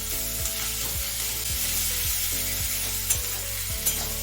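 Ginger sizzles steadily in a hot pan, with faint scraping and stirring clicks at a regular pace and no talking.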